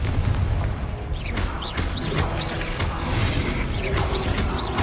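Confringo blasting spells in Hogwarts Legacy combat go off as a string of booming impacts and sharp cracks. Whooshing swept tones and clattering mechanical debris sit over a steady low rumble.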